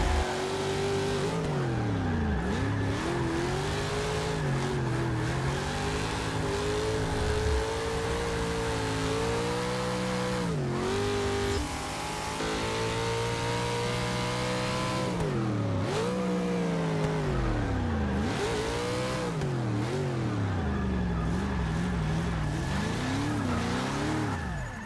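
A Plymouth Cuda engine in Forza Motorsport 6 revs hard through a drift, rising and falling roars with shifting pitch and repeated swells, tire squeal mixed in, loud and continuous with no talk.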